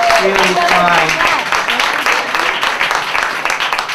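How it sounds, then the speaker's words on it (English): A comedy club audience at Broadway Comedy Club in New York claps loudly for a performer's daughter in the crowd, the applause loud at first and then thinning, with a voice speaking over it. "give her a round of applause"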